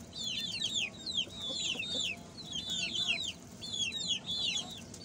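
Desi hens clucking and chirping while eating cheap grain feed, a steady chorus of short repeated calls from several birds at moderate distance, continuous over low background noise with no talking.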